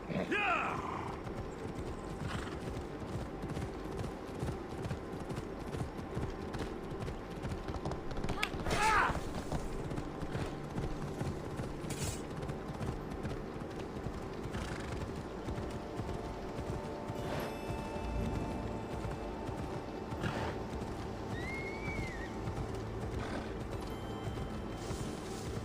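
Horse hooves clip-clop steadily while riding in the video game Assassin's Creed Odyssey, a continuous galloping rhythm under game sounds, with a voice talking over it and occasional sharper effects.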